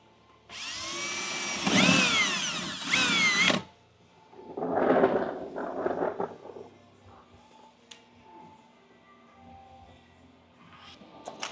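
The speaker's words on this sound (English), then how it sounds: "I'm gonna go ahead and drill this one out" Power drill boring out a wing bracket on a C8 Corvette Z06 for an OEM wing conversion: two loud whining bursts in the first few seconds, then a quieter drilling burst, fading into faint workshop sounds.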